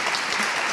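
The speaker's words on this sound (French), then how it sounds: "On peut l'applaudir." An audience at a master class applauds a film director, dense continuous clapping filling the short moment without any voices.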